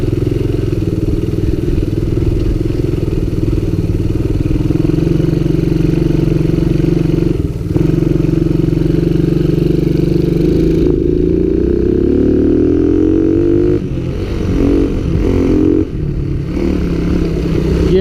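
A Coolster Mountop 125 ATV engine runs continuously while being ridden after a starter chain repair, a steady loud mid-pitched drone that rises in pitch as the engine revs up near the end.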